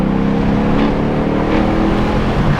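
A Mercedes E63 AMG engine roars steadily from inside the cabin, a loud continuous rumble of acceleration with no talking.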